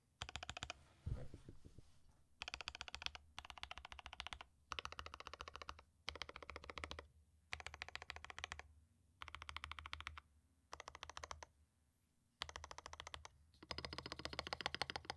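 Bursts of clacky typing on a Rama Works M65-B mechanical keyboard fitted with Alpaca switches and no dampening foam or brass weight, rapid keystrokes in short runs separated by brief pauses, close and alone.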